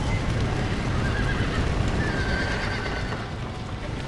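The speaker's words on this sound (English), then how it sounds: "todos los caballos están aquí, los animales" Horses whinny and neigh in Red Dead Redemption over a dense, noisy backdrop with hooves clopping, loud and continuous.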